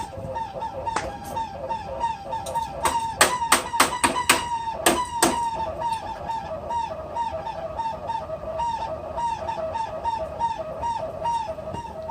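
Worn cooling fan in a Harbor Freight 90 amp welder squeals in a steady, repeating chirp pattern, broken midway by a burst of sharp metallic knocks; no one speaks.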